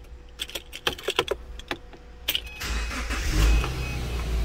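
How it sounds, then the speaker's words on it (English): A Subaru Forester's engine cranks and starts after a few seconds of sharp clicks and clatter, then settles into a steady, close idle rumble. "Start the car."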